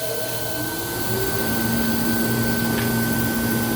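A Leister hot air heat welder seaming a banner hem blows with a steady, loud, close whooshing hiss and a faint motor hum that stays constant throughout.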